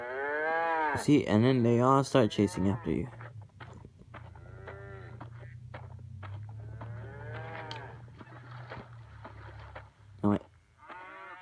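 A cow moos in the video game Survival Craft, with loud harmonic lowing calls early on and a later call near the end over a steady low drone, while someone talks over much of it.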